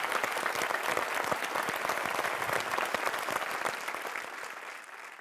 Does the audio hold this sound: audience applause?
yes